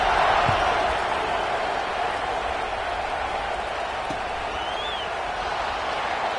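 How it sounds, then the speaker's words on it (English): A football stadium crowd after a touchdown makes a dense, distant, steady murmur and roar that continues throughout with a slight swell at the start. "this crowd is buzzing after that last score"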